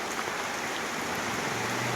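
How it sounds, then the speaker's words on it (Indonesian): Steady rain falls in a remote forest village of an old Javanese community, an even, dense hiss of drops pattering on surfaces, close and unbroken. "Ini malah hujan ya teman-teman"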